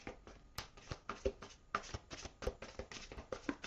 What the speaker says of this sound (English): One more shuffle for Aries, please.